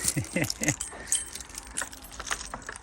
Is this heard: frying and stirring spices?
no